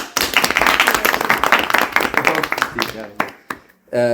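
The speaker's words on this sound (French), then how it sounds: "Ah, applaudissements pour Gwenola." Studio audience applause on a French TV quiz show, loud scattered clapping mixed with a speaking voice, dropping sharply near the end before a voice returns.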